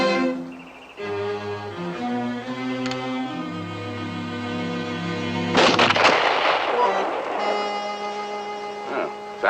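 A single loud gunshot fired at a target in a 1958 frontier adventure film, a sharp crack standing out from the musical score.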